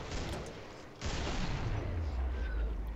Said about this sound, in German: Shotgun-Headshot